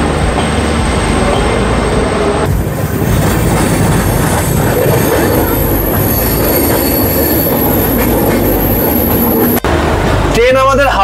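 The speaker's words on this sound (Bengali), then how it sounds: "ট্রেন আমাদের হাওড়া স্টেশনের 21 নম্বর প্ল্যাটফর্ম থেকে রাইট টাইমে ছেড়ে দিয়েছে আমাদের গন্তব্যের উদ্দেশ্যে" A passenger train pulls out of Howrah station's platform 21, with steady loud rumbling and wheel noise throughout and a brief squeal or screech near the end.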